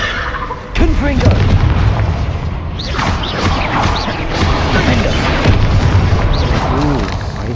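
Confringo fire spell blasts in Hogwarts Legacy combat, loud booming impacts recurring amid chaotic battle noise with voices calling out throughout.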